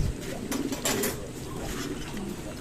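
Racing pigeons cooing at close range in a loft during a race, soft throaty coos and rustling under faint background noise, with no clear speech.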